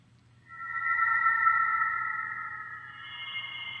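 A heavily processed hybrid orchestral patch from the Symphobia 4 Pandora library swells in after a brief pause and sustains as a bright, layered tonal drone with a low hum beneath, gradually thinning toward the end.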